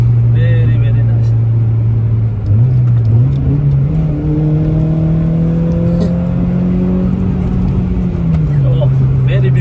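Toyota Corolla RSi with a stock 20-valve Blacktop engine idling and then revving, a steady loud drone rising in pitch and holding before settling back, recorded close with someone talking over it.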